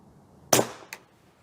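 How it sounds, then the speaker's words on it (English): A single sharp, close shot of a Remington subsonic round fired through a chronograph, followed by a quick fainter crack and then quiet. "then the Remington subsonic through the chronograph"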